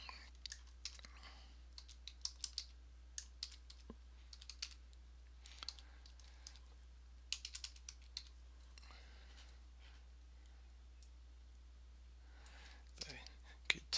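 Quiet, scattered taps on a computer keyboard in short irregular bursts over a steady low hum, with faint soft voice sounds in between.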